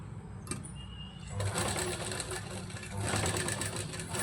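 A sewing machine runs steadily as it stitches a baby frock, its fast mechanical whir close and continuous, picking up speed partway through.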